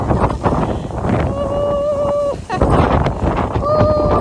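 Strong, cold wind in Okinawa buffets the microphone in a steady broadband roar, with a voice speaking over it at times.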